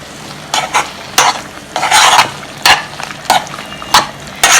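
A curry with yogurt, turmeric and chili powder being stirred in a pot, with a series of loud, close scraping swishes in an irregular rhythm over a faint sizzle.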